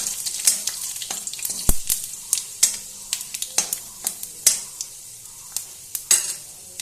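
Steady sizzling of panch phoron, bay leaves and dried red chillies frying in hot mustard oil, with intermittent scraping and stirring clicks from a utensil in the pan, no voices.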